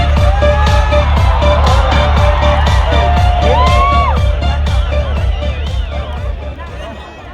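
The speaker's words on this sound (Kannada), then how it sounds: "ಬನ್ನಿ ಜೋರಾದ ಚಪ್ಪಾಳೆ" Large festival crowd at the Hampi Utsav concert cheering and whooping loudly, with claps and shouts blended into a dense roar that runs steadily before easing slightly toward the end.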